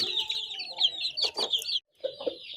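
Young chickens kept under a warming light in a coop cluck and peep in a steady stream of high, close calls, pausing briefly before resuming.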